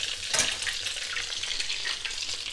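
Torrijas, slices of bread, fry in hot oil in a pan with a loud, dense crackling sizzle that carries on steadily from start to finish.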